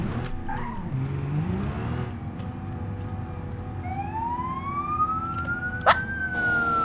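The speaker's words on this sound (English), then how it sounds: "Why is there sirens behind me?" A police car siren in the BeamNG.drive driving game wails faintly behind the car's road noise, a rising tone sweeping upward in the second half with a brief tyre skid near the end.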